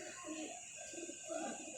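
Pigeons coo softly in a repeated, rolling pattern of low throaty calls, faint and fairly close, with a thin steady hiss underneath and no talking.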